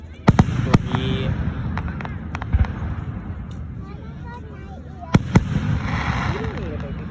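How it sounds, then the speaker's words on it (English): Fireworks at a loud 2025 show burst overhead with a few sharp, booming cracks spaced seconds apart, ringing out over a low rumbling background while people talk nearby. "fireworks are pretty much just like missiles getting shot up in the air"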